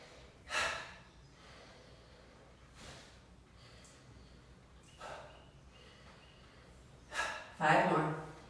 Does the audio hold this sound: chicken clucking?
no